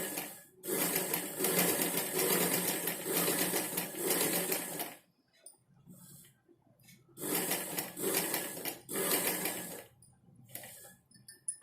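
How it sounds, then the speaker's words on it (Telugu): A sewing machine runs in long steady bursts of rapid stitching along a dress neckline, stopping briefly between runs before starting again, close and loud with no voices. "ఇలా సెట్ చేసుకున్న తర్వాత మళ్ళీ స్ట్రైట్గా స్టిచ్చింగ్ చేసుకోవాలి"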